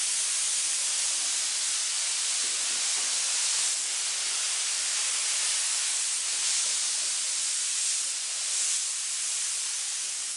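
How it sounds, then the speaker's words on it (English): Spray gun at quarter trigger lightly dusting silver paint over a guitar body, a steady broad airy hiss running unbroken and fairly close throughout. "I'm going to lightly dust silver over everything. I'm only pulling quarter trigger"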